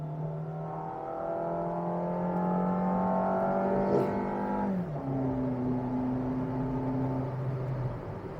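Suzuki XL7 budget subcompact MPV engine rising under kick-down acceleration, a steady droning rev that climbs, then drops and climbs again as it shifts, heard from inside the cabin without talk.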